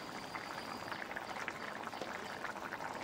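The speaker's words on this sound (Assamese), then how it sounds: "এয়া ধুনীয়াকৈ উতল আহি গৈছে" Water boiling in a covered pot while cooking an Assamese fish curry with sponge gourd, a steady close bubbling hiss and simmer running the whole time without talk.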